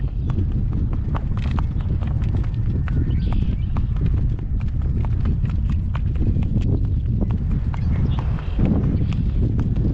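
Young horse's hooves walking outdoors in gale-force wind, faint irregular hoof thuds under a constant loud roar of wind buffeting, with a voice speaking at times.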